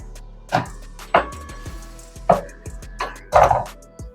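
Scissors cut through blouse fabric to make a strip for hooks, giving five or so crisp, close snips spaced irregularly against a quiet background, with no talking.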